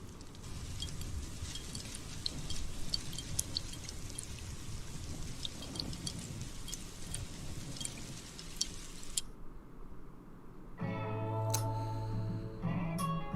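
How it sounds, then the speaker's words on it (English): Steady rain falling and pattering for several seconds at the opening of a Better Call Saul episode, then it cuts off abruptly into a sustained musical tone. "here comes the rain"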